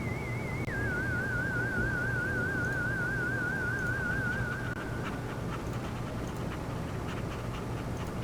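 A dog pants steadily in the Harvester video game, breathing in a continuous close rasp under a wavering electronic tone that fades out partway through.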